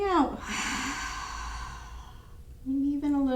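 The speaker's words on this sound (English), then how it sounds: "a little bit more firm breathing so that you're really kind of cleansing as your throat is constricted" A firm, breathy exhale pushed through a constricted throat during a yoga class for stress, a long airy rush close to the mic, followed by a brief voiced sound at the end.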